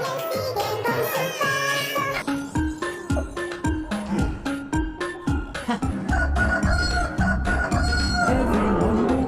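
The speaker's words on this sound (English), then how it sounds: "Kikirikikikiko. Rooster, rooster, rooster free." A rooster crows repeatedly in a lively children's song mixing English and Spanish, with the crowing woven into bright music and rhythmic beats.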